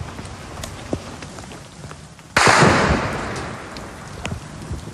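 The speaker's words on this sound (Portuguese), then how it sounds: "Ouve-se um tiro." Single gunshot during a police operation, a sharp loud crack that bursts out suddenly and decays into a noisy tail over a background of outdoor rustle and scattered taps.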